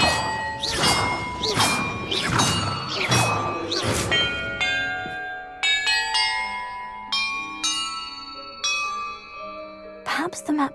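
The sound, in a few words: church bells ringing in the video game Hogwarts Legacy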